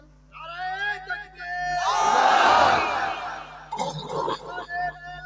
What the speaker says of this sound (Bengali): কে পারেন দেন তাকবীর দেন।